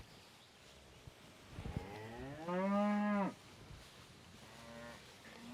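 A herd of cattle shifts to new pasture while one cow lets out a long, loud moo close by. Fainter lowing follows, and light rustling and a brief spoken word sit underneath.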